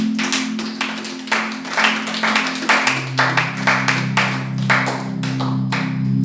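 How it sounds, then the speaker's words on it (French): Audience in a church service clapping for a miracle testimony, brisk rhythmic applause from many hands, loud and close, with a sustained organ or keyboard tone underneath. "Est-ce qu'on peut acclamer pour cette miracle?"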